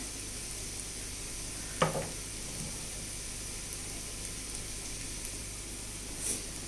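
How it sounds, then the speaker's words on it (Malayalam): Onion and garlic fry in a pan for a coconut-milk curry of jackfruit seed, mango and drumstick, giving a soft, continuous sizzle with a couple of brief stirring scrapes. "ഉള്ളി വെളുത്തുള്ളിയൊക്കെ മൂത്ത് വന്നിട്ടുണ്ട്"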